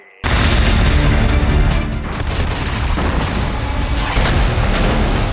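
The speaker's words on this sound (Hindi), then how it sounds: "जहां टारगेट तय किया वहां धमाके किए।" A dense, roaring barrage of heavy blasts and booms erupts suddenly and continues loudly without pause, like sustained explosions or artillery fire.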